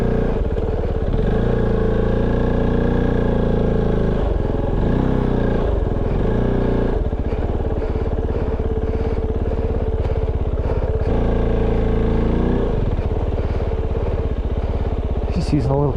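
Kove 450 Rally motorcycle engine running steadily on a rocky jeep trail, low throbbing idle with brief clutch-eased revs, loud and close throughout while a rider speaks over it.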